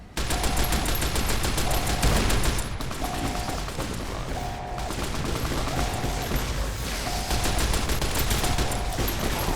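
Rapid automatic gunfire in a video game, a loud dense stream of shots running continuously for nearly ten seconds with a regular intermittent beeping tone repeating over it, no speech.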